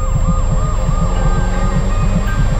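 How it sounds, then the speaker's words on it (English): An ambulance siren in a Minecraft animation wails loud and close in a fast, repeating up-and-down cycle over a steady engine drone. "Oh, this looks like an ambulance."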